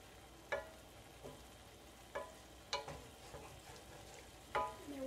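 A pan bottom is scraped after a quarter cup of water goes in while cooking ravioli lasagna, with a few sharp scraping strokes over a quiet simmering sizzle, close and moderately soft.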